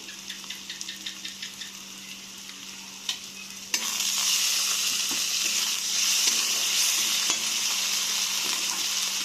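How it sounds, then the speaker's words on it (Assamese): Ginger garlic paste hits hot oil in a pan with a sudden loud sizzle that stays steady, after a few light stirring taps, while cooking broiler chicken curry with tomato, green papaya and potato. "আদা নহৰুৰ পেষ্ট ইয়াতে মই দি দিলোঁ"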